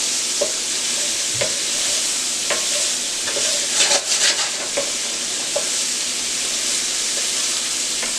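Shrimp fried rice sizzling in a hot pan with onion, a steady bright frying hiss broken by repeated scraping strokes of a utensil stirring, close and clear, with a brief burst of louder clatter midway.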